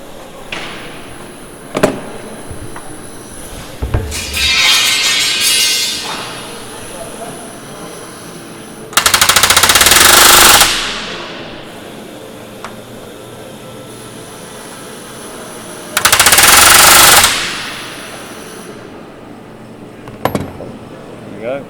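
Two loud, sustained bursts of rapid riveting from a rivet gun hammer a panel on the Lancaster bomber NX611, separated by quieter background noise and a few knocks.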